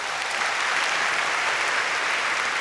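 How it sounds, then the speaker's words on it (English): An audience applauds steadily, a dense, even clatter of many hands clapping at close range and holding at a constant level from start to finish, without any voices. "everybody give a round of applause for Katie."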